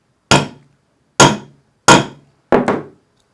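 A hammer striking a line 24 snap setter to set a snap, four sharp, loud, close blows at even spacing, the last a quick double hit, with nothing else heard.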